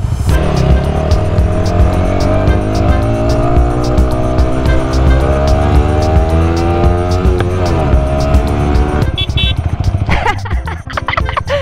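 A Yamaha R15 sport motorcycle rides along the road, its engine droning loudly and steadily with rising pitch sweeps as it revs through gears, plus wind buffeting throughout and a brief rougher patch near the end.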